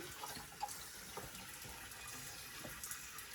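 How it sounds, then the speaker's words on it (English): Water pours gently into a canning pot over jars, a soft, steady trickle and splash with small bubbling bursts, faint and close, with no voices. "now I'm going to gently add water to it"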